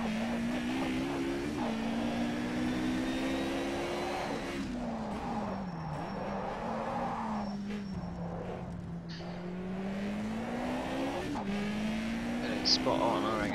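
Toyota Celica engine in a racing video game, a thin revving tone that climbs and dips with gear changes, steady and continuous beneath a voice talking.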